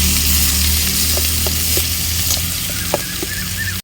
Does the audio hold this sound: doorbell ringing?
no